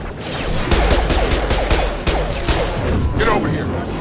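Bursts of gunfire in Mass Effect Legendary, sharp repeated shots cracking close in an irregular rhythm, mixed with thuds and impacts while voices talk over the fighting.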